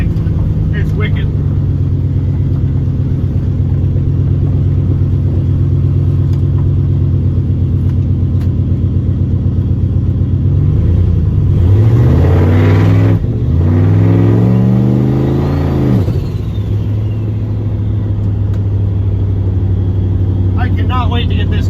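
A turbocharged LS-swapped Caravan rumbles steadily while driving, then revs hard in a loud rising surge midway before settling back to a deep cruise, with a person talking over the engine.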